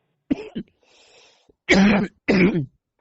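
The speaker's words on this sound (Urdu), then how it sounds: "ابھی سے کھانسی اٹھ گئی" Several close coughs in a row: two short hacks, a pause with a raspy breath, then two louder, harsher coughs.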